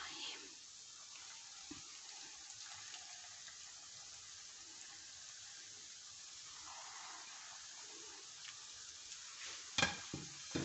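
Gulab jamun balls fry in hot oil in a large open pan, a steady soft sizzle running throughout with a few clinks and splashes near the end, low in level.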